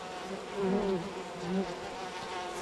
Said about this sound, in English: Let's get far enough away from the bees so we can switch back.